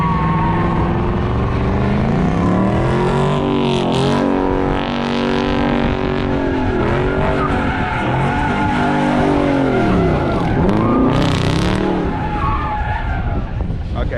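At a car meet, a car does a burnout with only one tire spinning. The engine roars steadily and the tire squeals and skids without a break, loud and close, with crowd noise beneath.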